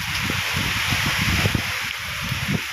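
Strong Typhoon Ferdie wind gusts roar steadily against the microphone on a farm, with a low rumbling buffet and a constant rushing hiss throughout, and no voices.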